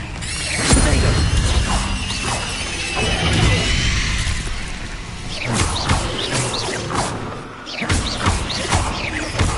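Incendio fire spell cast in Hogwarts Legacy: repeated fiery bursts with whooshing, crackling bangs, several loud blasts spread across the clip amid other combat clatter.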